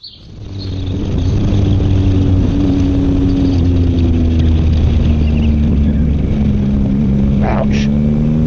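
A Yamaha MT-09 motorcycle engine starts and settles into a loud, steady idle with a deep, even drone and stable harmonics, close up, with a faint voice toward the end.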